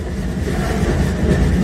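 A train rolls steadily along rails, a loud rumbling low drone with faint rhythmic clacking, heard from on board with no talk.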